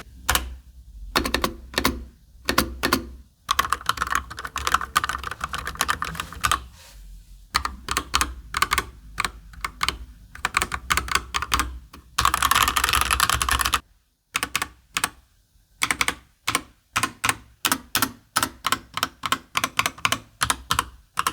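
Someone types on a HATOR Starfall RGB mechanical keyboard fitted with linear switches, producing rapid bursts of clacking keystrokes separated by short pauses, close and crisp, with one longer sustained run of fast typing midway.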